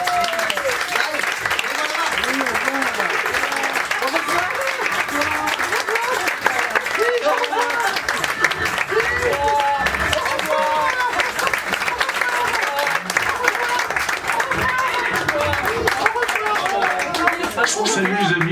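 Audience applause in a French comedy series, sustained and loud, with dense clapping and crowd noise running throughout and voices occasionally rising over it.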